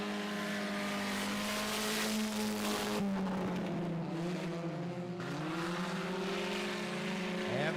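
Sprint cars in a Gladiator feature race roar down the back straightaway side by side, loud overlapping engine whines rising and falling in pitch as they pass close by.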